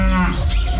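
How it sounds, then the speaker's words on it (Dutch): Cow mooing on a carnival parade float with a farm and biogas theme, one loud close low moo lasting under a second. "Achter Bella zie je onze koeien Dixies"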